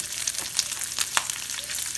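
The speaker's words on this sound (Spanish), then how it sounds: "en un sartén agregar un chorrito de aceite de oliva y agregar el pollo rostizado y freír un poco el pollo" Shredded rotisserie chicken fries in olive oil in a pan, a close steady sizzle with small crackling pops and an occasional stir.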